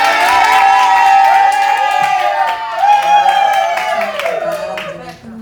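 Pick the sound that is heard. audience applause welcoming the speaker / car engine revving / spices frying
audience applause welcoming the speaker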